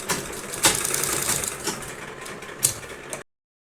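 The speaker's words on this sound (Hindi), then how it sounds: "अब हम बुकरम के बिल्कुल बगल में इस तरह से सिलाई लगाएंगे।" A sewing machine stitches beside buckram on a sweetheart neck design, a quick mechanical rattle lasting about three seconds with a couple of sharper clicks, close and moderately loud, then stopping abruptly.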